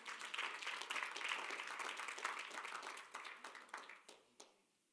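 A church congregation claps for the Lord during a sermon, a steady wash of applause that thins into scattered individual claps and fades out near the end.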